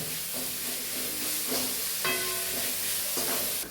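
Onion and carrot saute in a pan for wheat adai, a steady close sizzle and hiss with faint scraping stir sounds, and no voices.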